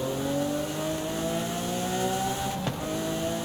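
A roofless Lamborghini Aventador in Forza Horizon 5 drones with a steady engine note that climbs slowly in pitch, with one short sharp click near the end.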